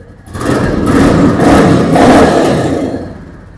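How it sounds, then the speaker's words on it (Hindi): A 2023 Royal Enfield Bullet 350 BS7 motorcycle engine revved up twice in close succession, loud and near, a thumping roar swelling and dropping before settling back. "लेकिन अगर हम इसको रेफ करते हैं"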